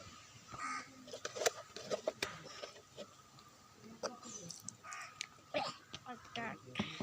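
Crows caw repeatedly at an outdoor home setting. The harsh calls come in short irregular bursts at moderate distance, and people talk between and over them.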